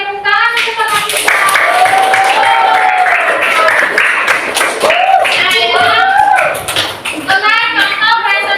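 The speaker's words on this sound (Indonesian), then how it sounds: "Oke, tepuk tangan untuk Bapak kita." Elementary school classroom applause, children clapping together in a lively stretch that runs throughout, loud and close, with children's voices calling out over the clapping.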